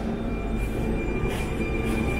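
A Koleje Śląskie train pulls away, a steady loud rumble of wheels and running gear with a thin high squeal riding over it, heard close up from on board or beside the track without talking.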